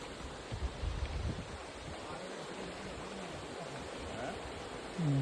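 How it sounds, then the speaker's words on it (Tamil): Rushing water roars steadily from Kumbakarai waterfall in a reserve forest, a broad constant wash of noise with faint murmurs beneath it. "அருவி தண்ணி எப்படி ஓடுது பாருங்கள்"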